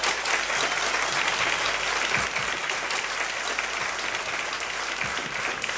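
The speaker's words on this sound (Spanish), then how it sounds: "¡Un fuerte aplauso!" A live audience at a music show applauds loudly and continuously, a dense, even wash of clapping that holds steady throughout with no voices over it.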